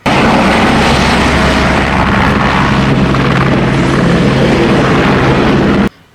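Toy helicopter making a loud, dense whirring rotor drone that runs steadily for about six seconds, then cuts off abruptly.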